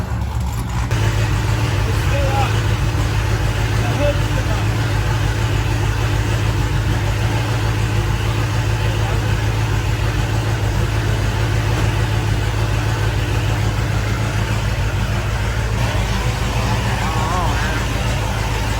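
A car fitted with a Kong 2650 supercharger and a big upper pulley runs on its first drive with a loud, steady engine drone and low rumble throughout, people talking over it.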